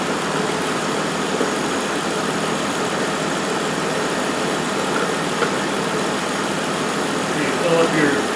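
A 2005 Kia Sedona idles steadily while warming up, a constant mid-pitched engine hum with a broad hiss over it, even and unchanging throughout.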